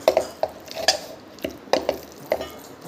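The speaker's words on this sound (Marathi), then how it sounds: "चमच्याने असं मॅश करायचं आहे" Cooked rice is mashed with a spoon in a pot, giving a series of soft, wet squelches and light metallic clicks against the pot, faint and close, in irregular bursts.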